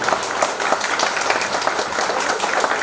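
Wedding guests applaud the bride's and groom's parents, giving dense, steady clapping from a crowd that lasts the whole stretch with no clear talking.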